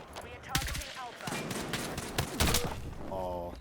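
Rapid bursts of M4A1 rifle fire in a first-person shooter video game, several sharp volleys in quick succession, loud and close, with a player's voice speaking briefly over the action.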